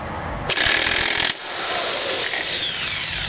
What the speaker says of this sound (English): fortunately for me, I have an impact wrench. So this is pretty quick and easy.